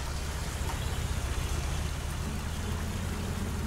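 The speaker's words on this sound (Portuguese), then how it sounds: "Vamos sair desse buraco aqui de água." A truck in the Spintires game churns and splashes through a water-filled hole, a constant rushing wash of water over a low engine drone, steady and fairly loud with no voices.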